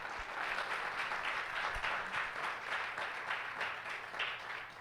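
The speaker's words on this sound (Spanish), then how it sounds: "les pido por favor que le den otro aplauso a nuestros pastores por su gran esfuerzo" Audience applause for the pastors at a church doctrine conference, a steady wash of clapping at moderate level held throughout the short stretch with no voices over it.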